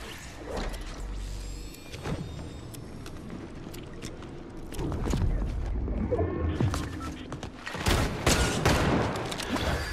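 Shotgun blasts and other gunfire ring out in a video game, several sharp bursts scattered over a busy backdrop of booms and whooshes.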